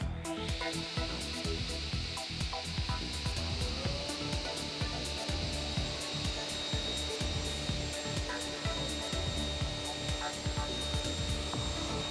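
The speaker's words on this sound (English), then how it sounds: "The glue we used on the seat has now hardened and can be cut to size." A Felder Hammer C3 31 combination machine cuts hardened, glued wood for a seat to size, giving a continuous close whine with dense rasping and rubbing texture throughout, no voices.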